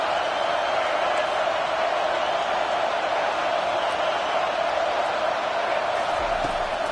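Home stadium crowd in an NCAA 25 college football game on third down, a dense continuous roar that holds loud and steady the whole time.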